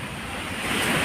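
Sea waves wash in a brief, rushing surge that swells slightly toward the end, mixed with wind buffeting the microphone. Nearby and fairly loud, with no voices.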